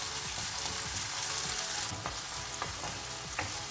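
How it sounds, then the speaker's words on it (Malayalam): Chopped tomato tossed into a hot pan for a cashew nut masala kurma, sizzling steadily with scraping stirs and a few sharper clinks of the spoon throughout, close and fairly loud with no talking. "ഇതിലേക്ക് ചോപ്പ് ചെയ്ത് വെച്ചേക്കുന്ന ടൊമാറ്റോ ഇട്ട് കൊടുക്കാം. നന്നായി ഒന്ന് മിക്സ് ചെയ്യാം."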